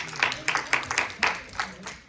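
A church congregation claps in a steady rhythmic beat, with many hands striking together in roughly even pulses over a short stretch, moderately loud.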